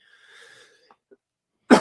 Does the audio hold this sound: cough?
yes